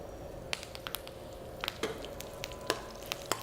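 Fennel seeds, cashews, cinnamon and dried chili frying in hot oil for a Chettinad garlic prawn masala, a quiet steady sizzle with scattered sharp pops and crackles.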